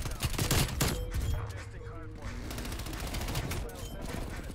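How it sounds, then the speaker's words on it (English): A sentry gun in Call of Duty Cold War fires sustained rapid bursts that sound close and loud at the start. The firing then carries on more faintly under a busy game soundscape, with some voice chatter mixed in. "Yeah, they have a sentry gun."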